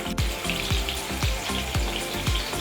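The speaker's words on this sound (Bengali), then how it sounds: "মাছগুলো বেশি ভাজবো না হালকা হালকা করে ভাজবো" Pieces of hilsa fish fry lightly in a pan with a close, steady sizzle, punctuated by regular low thumps roughly every half second.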